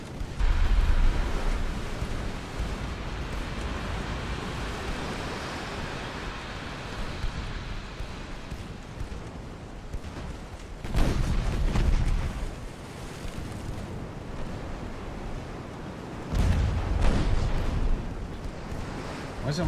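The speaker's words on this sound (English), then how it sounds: "I'm taking torpedo fire" Torpedo hits on a warship in Ultimate Admiral: Dreadnoughts, a steady roar of sea and battle noise broken by several heavy booming bursts spaced seconds apart, with a voice talking faintly underneath.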